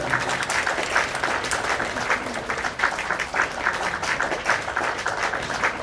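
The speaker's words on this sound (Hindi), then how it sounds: "आप लोग ताली भी बजा रहे हैं।" An audience at a seminar applauds with sustained, dense clapping that stays loud and even from start to finish, with no speech over it.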